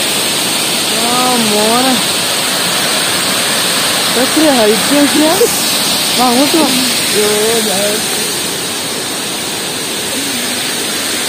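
Alakapuri waterfall at Kanjirakkolli pours in a steady, loud hiss of falling water, with people talking excitedly over it.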